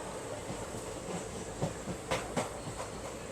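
A passenger train running on rails on the way to Coimbatore, a continuous rumbling roar with a few clickety-clack wheel beats over rail joints, heard from inside the carriage.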